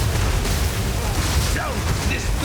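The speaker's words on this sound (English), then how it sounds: "There's just a lot of explosions happening" Explosions burst in Path of Exile 2 during a boss fight, forming a loud, dense, continuous rumble of booms and blasts with chirping effects layered on top.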